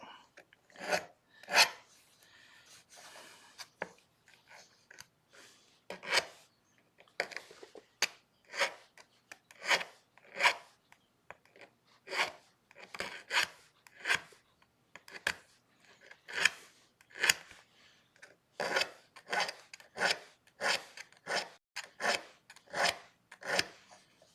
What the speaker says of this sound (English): I like the number 4 German files. Very fine cut, but still aggressive enough to take some material off.